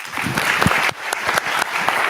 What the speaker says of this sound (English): a big round of applause to our 3 contestants on sustainable livestock